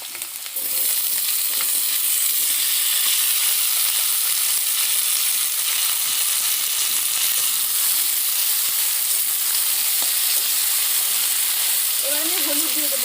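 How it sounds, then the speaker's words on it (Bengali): Potatoes fry in hot oil in a kadai for a vegetarian semolina kofta dish, a loud, dense, continuous sizzle after an initial burst as they drop in, holding steady throughout. "তেলটা গরম হয়ে গেছে, এবার আমি আলুগুলোকে ছেড়ে দেবো।"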